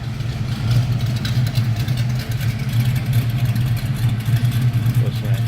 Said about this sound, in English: Listen to that 302 stroker.